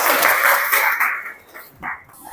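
Classroom applause after a student group presentation on zero waste in an Indonesian school: a burst of clapping from a room of listeners that fades after a second, then a brief second flurry.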